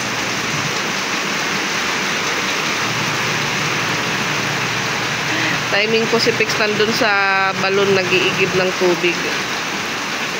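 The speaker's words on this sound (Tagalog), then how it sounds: "Malakas ang ulan, biglang bumuhos." Heavy rain pours down in a steady, loud hiss that fills the whole stretch, with a person talking over the downpour toward the end.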